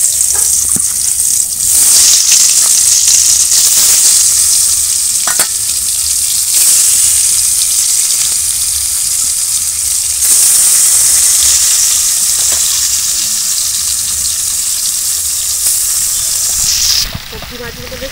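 Small fish frying steadily in hot oil in a wok, with turmeric and salt added to the oil, a continuous loud sizzle and hiss that holds without a break throughout.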